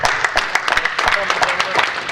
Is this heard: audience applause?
yes